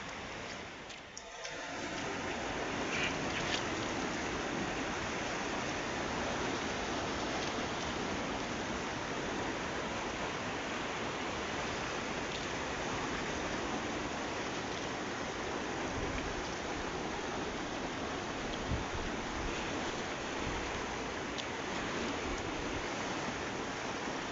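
The flooded Aghanashini river rushes in a continuous, broad roar during the monsoon, steady and fairly loud, a swollen river in full flow.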